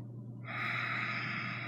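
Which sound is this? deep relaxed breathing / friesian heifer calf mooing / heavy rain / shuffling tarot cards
deep relaxed breathing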